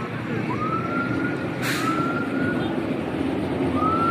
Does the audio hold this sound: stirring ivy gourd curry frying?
no